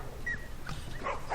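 Dogs in the video game The Last of Us bark and whimper in short, yipping bursts over a continuous game soundscape, heard at moderate loudness without speech.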